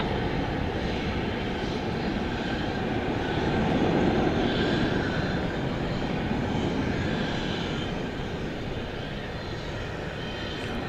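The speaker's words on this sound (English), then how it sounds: "the Dreamliner from Philadelphia, is just getting ready to touch down" A Boeing 787 Dreamliner arriving from Philadelphia touches down at DFW Airport after dark, a steady, broad engine roar swelling slightly midway and then easing, heard from a distance with no one talking.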